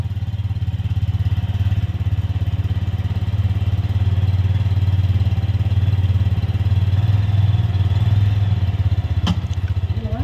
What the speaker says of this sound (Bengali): সাবধানে আসবা, আস্তে বাইক চালাবা